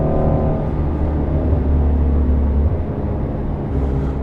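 A Ford Shelby GT350 driving on back roads, heard as a loud, steady low engine drone and road rumble from inside the cabin, holding a constant pitch with a slight lift near the end.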